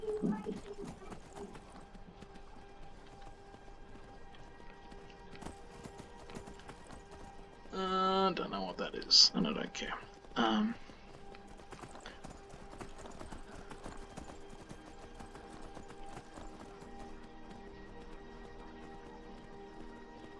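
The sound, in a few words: horse hooves galloping uphill in the video game Skyrim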